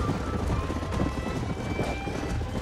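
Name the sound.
wild horse galloping and neighing in the video game Red Dead Redemption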